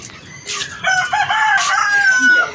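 A rooster lets out one loud, drawn-out crow close by, preceded by brief clucking sounds.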